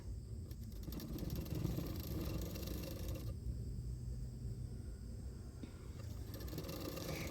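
A sewing machine runs steadily while stitching a folded blouse edge, a continuous close mechanical whir and rattle that holds for several seconds without talk.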